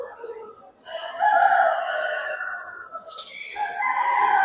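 A rooster at a poultry show, scored 93 points, gives one long drawn-out crow at close range, followed by a second rising call, with no talking.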